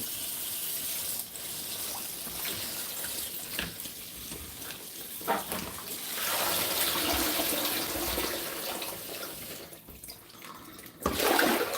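Tap water runs steadily into a sink while dried parsley and mint leaves are rinsed, a continuous close hiss with occasional splashes and swells.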